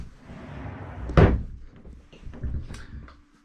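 A door swung shut with a single solid thump near the mic, preceded and followed by quiet room noise and faint rustling.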